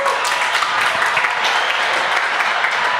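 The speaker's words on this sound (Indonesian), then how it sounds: "Tepuk tangan sekali lagi buat Dio." Audience applause for a performer at a live talk show event, steady dense clapping throughout with no pauses.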